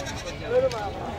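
Sheep and lambs bleat at a busy livestock market, a short wavering bleat rising amid crowd chatter and voices.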